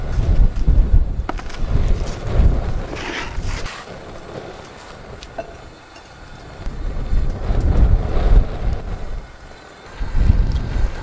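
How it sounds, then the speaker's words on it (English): Gusty wind buffets a cliffside campsite in Moab, roaring in loud surges and dropping briefly between gusts, rumbling hard against the microphone with no voices heard. "as you can tell, it's pretty windy"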